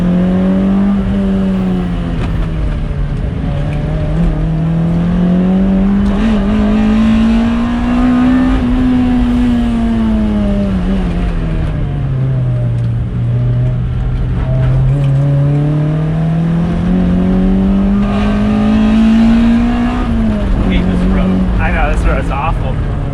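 Toyota MR2 Spyder with a 2ZZ-GE engine power sliding out of a corner, the engine note rising and falling in long sweeping swells as revs climb and drop, loud and close throughout.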